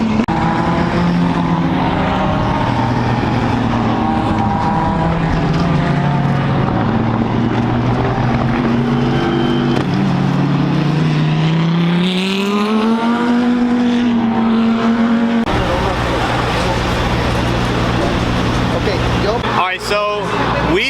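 GT race cars at a GT World Challenge America round roar past on the track, engine notes climbing and falling through downshifts up a hill, loud and close with a second car sweeping by near the end.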